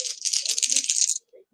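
Dice tumble and rattle in the Action PC Baseball computer game, used for a 1977 season replay: a quick, close clattering burst of about a second that stops abruptly, followed by a couple of faint clicks.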